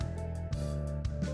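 Video game audio from Fragile Packages plays as a thick, droning musical hum with sustained low tones and a few soft bursts, brief and moderately quiet with no talking.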